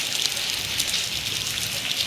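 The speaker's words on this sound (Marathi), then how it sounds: "आणि आता बाहेर छान पाऊस पडतोय" Rain falls outside during a sunny shower, a dense steady patter of drops with a few sharper ticks and no voices.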